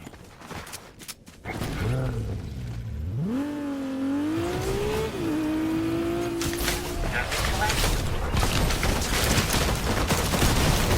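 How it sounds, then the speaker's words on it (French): A car drives in a video game, its engine rising in pitch as it accelerates, then holding a steady drone amid scattered gunfire-like bursts and game noise, with players talking over it. "Il y a une voiture."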